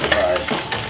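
An egg frying in a pan for a bacon, cheese and fried egg breakfast sandwich gives a short, close burst of sizzling with light crackle.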